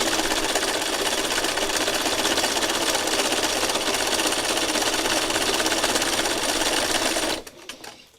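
A sewing machine stitches along the edge of fabric in a fast, loud, continuous mechanical rattle, then stops abruptly near the end, leaving a few faint clicks.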